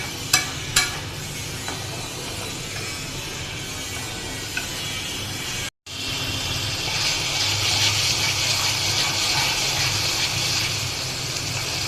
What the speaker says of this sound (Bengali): এখন আমি ভালো করে এটাকে কষিয়ে নেব।